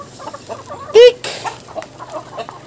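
Chickens on an egg farm cluck softly in a quiet coop, with one sharp loud squawk near the middle standing out above the low background murmur.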